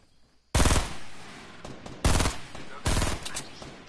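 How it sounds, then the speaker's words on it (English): Bursts of automatic gunfire in a PS4 online squad shooter, three loud sustained volleys separated by short pauses, with no talking over them. "Why are you shooting at them"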